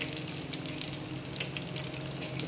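Vegetable rolls frying in hot oil at a restaurant, giving a steady, dense sizzle and crackle at moderate level throughout, with no voices.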